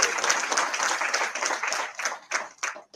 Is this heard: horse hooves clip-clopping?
no